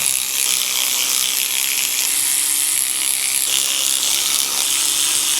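Ratchet wrench clicking steadily and close up while loosening the supercharger blower on an LSA engine, a continuous run of rapid pawl clicks with no talking.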